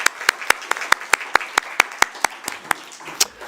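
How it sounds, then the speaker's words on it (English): Sharp, evenly spaced claps ring out for a book launch panel, roughly a dozen crisp slaps in a steady rhythm, sounding like one or a few people clapping in time rather than a full crowd. "Can we give them a big round of applause"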